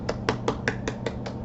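Finger snapping offered as applause, a rapid run of about seven crisp snaps in an even rhythm, close and alone.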